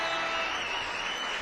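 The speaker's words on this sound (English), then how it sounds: "Can I have a cheering sound?" Crowd cheering and applause sound effect played on a livestream, a dense, loud, steady roar of clapping and cheers lasting a moment with no voice over it.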